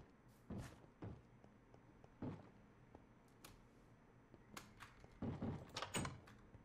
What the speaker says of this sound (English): Something is knocking on my door.